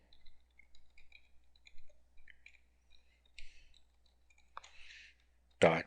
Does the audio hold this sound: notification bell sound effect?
no